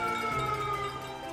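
A steady emergency vehicle siren sounding as an evening tribute in New York, a sustained, tonal wail that holds level and fairly loud for a brief moment with no voices.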